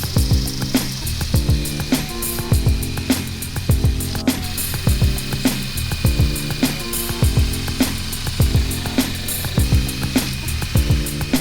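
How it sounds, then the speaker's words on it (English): Angle grinder fitted with a sanding disc grinding the edge of a half cabin boat windscreen frame, a steady loud whirring drone with a rhythmic pulsing and recurring scraping bursts as the disc works the material. "I only needed to grind one side, well, 2 sides of the window screen."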